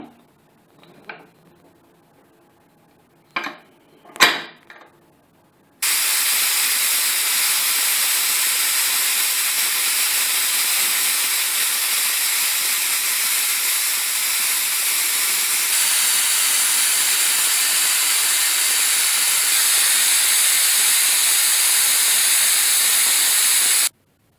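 A pressure cooker cooking veg biryani lets out a loud, steady whistling hiss that runs unbroken for most of the stretch, preceded by a few brief clicks and knocks.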